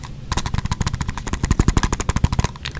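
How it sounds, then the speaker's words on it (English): Rapid, continuous tapping on a container, a fast rattling run of sharp close-up taps with a hollow thud, lasting a couple of seconds. "it is quite rapid with the rapid fire tapping"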